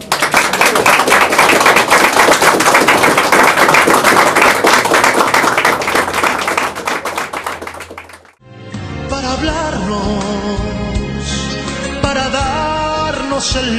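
Guests applaud at a wedding ceremony right after the couple is declared married, dense sustained clapping from a crowd lasting about eight seconds and fading out before music begins.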